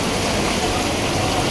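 Heavy rain pouring in Mumbai, a dense, steady broadband hiss of downpour that holds evenly loud and close throughout, with no pauses or other clear sounds on top.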